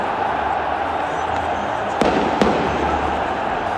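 Fireworks set off by football supporters inside the stadium during an Olympique de Marseille versus PAOK match: two sharp bangs in quick succession over a constant roar of the crowd.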